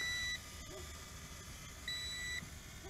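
Electronic headless-mode alert from a JXD 506G 5.8GHz FPV altitude-hold RC quadcopter, a high steady tone that stops and then comes back briefly, with a steady low hum of motor and outdoor noise underneath.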